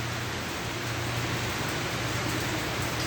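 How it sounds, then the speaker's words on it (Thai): Steady rain falling outdoors at a car audio shop, a dense, loud, even hiss that runs unbroken throughout with no voices. "นี่ฝนตกนะครับ"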